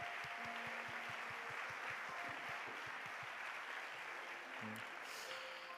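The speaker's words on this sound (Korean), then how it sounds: "우리의 찬양을 받으신 하나님께 감사의 박수 올려드립시다." A university church congregation at a Sunday morning worship service gives a faint, distant, diffuse patter of applause that carries on evenly under low hall noise and a few soft tonal sounds.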